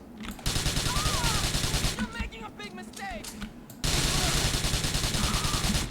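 Gunfire from the GTA 4 video game comes in rapid automatic bursts, loud and close, with a short pause in the middle and faint game sounds between the volleys.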